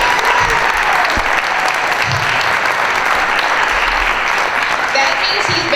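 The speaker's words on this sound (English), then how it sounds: "so can we give him a round of applause?" Audience applause at a Miss Armada drag show, a steady, dense wash of clapping from a crowd that stays loud and continuous, with a few cheers rising now and then.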